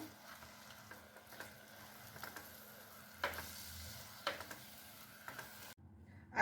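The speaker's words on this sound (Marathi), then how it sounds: "आता यामध्ये घालूया टोमॅटो प्युरी व्यवस्थित मिक्स करून घेऊया" Tomato puree is mixed into oily fried masala for dhaba-style paneer masala, giving a quiet sizzle broken by occasional spoon knocks against the pan, with no one speaking.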